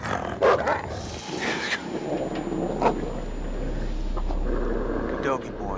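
A dog barks a few times in an Until Dawn horror game scene on PS4, with sharp bursts spread across the clip over a dark, steady ambient hum and some background noise.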